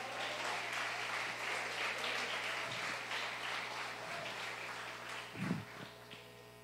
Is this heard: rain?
no